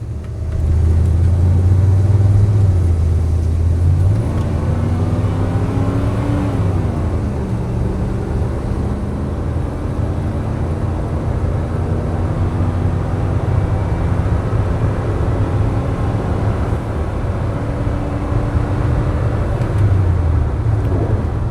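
A 1988 Chevrolet K2500 4x4 pickup with 56K miles, warmed up, hums steadily with a low engine drone and road rumble from inside the cab, rising and easing slightly as it drives, loud and continuous with no talk.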